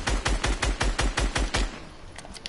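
Rapid automatic gunfire from a shooter video game, about nine sharp evenly spaced shots in a quick burst that then stops, followed by a few faint distant cracks; close and loud, with no talk over it.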